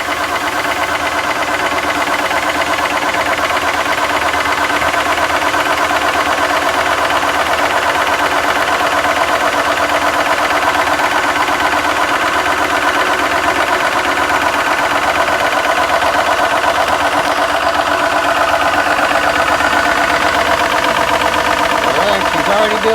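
A Kong Lil' Foot PCP air compressor runs steadily and loud, making a continuous rhythmic mechanical drone with a pumping knock as it builds pressure.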